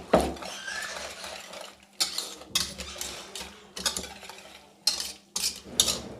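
Spoon clattering and scraping in a bowl as two eggs are mixed into a potato paratha mixture, uneven rhythmic clinks in short bursts, close and fairly quiet, without speech.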